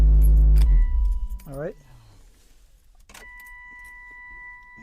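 An abandoned BMW Z3 coupe's engine runs loudly, then cuts off as keys jangle in the ignition. A whirring sweep and a steady electronic chime follow in the quiet cabin, and someone speaks briefly.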